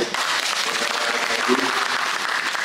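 Dense applause from an audience at a press event marking a new Saudia flight route to Bali, a steady, fairly loud wash of many clapping hands with a faint voice or two mixed in.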